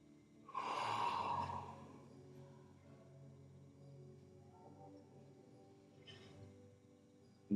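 During a restorative yoga session, one long audible exhale is followed by quieter slow breathing and a second softer breath near the end, all close and unaccompanied by talk.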